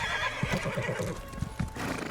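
A horse in a video game whinnies while its hooves clip-clop in a quick rhythmic run, close and clear, with the neigh rising over the repeated hoof beats.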